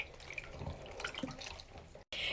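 Water sloshes and trickles faintly in a sink full of stress balls, soft close splashing and drips with a brief silent gap near the end.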